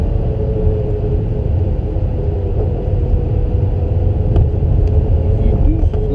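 A car's engine drones steadily as it's driven around a track, slowing into a rough section where it automatically downshifts to first; the low rumble stays loud and continuous throughout.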